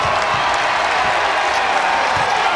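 A college basketball arena crowd, NC State Wolfpack hosting The Citadel Bulldogs, roars after a three-pointer, a loud, dense, sustained wash of cheering and applause with no let-up.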